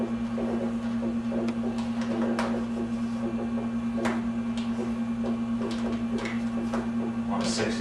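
A Roland GX-24 vinyl cutter with a 60-degree blade at 140 grams downforce cuts Spectre flock media, producing a steady motor hum under scattered light ticks and clicks.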